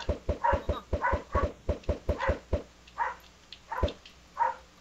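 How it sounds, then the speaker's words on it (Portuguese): A dog barks in rapid bursts close to the microphone, a quick run of sharp barks followed by a few spaced ones, loud and alone. "desculpa o barulho do cachorro aí"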